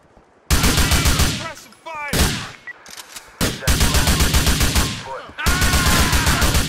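Gunfire in the video game GTA IV comes as loud, close bursts of rapid automatic fire in several long stretches, with short gaps between bursts.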